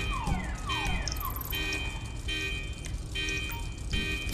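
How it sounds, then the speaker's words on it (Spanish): A car alarm blares inside the GTA video game, cycling through repeated patterns of rising whoops and steady high tones, loud and continuous with no talk over it. "¿Cómo apago la alarma?"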